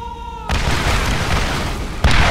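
Rocket launcher blasts in the shooter game Borderlands hit as a loud boom that cuts off a quieter tone, roars on, and is followed about a second and a half later by a second explosion.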